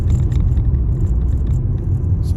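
A car travels at speed on a Cheetham Hill driving test route, heard from inside as a loud, steady low road rumble with faint scraping texture and no talk.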